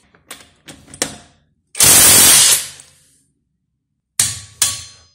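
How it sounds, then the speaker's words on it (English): A cheap Juemel cordless impact wrench driving a bolt, giving a loud burst of rapid hammering rattle lasting about a second, with separate shorter bursts and clicks before and after amid silence. "it took 10 seconds for a single bolt with this Juemel impact wrench"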